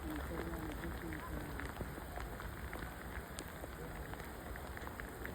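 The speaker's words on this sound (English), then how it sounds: "Trying to cover because it's raining." Steady rain patters on frozen Lake George in New York on a snowy day, a dense, continuous hiss with scattered sharper drops close by.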